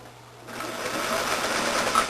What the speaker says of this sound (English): What happens when it hits the pin like that is it can chip your needle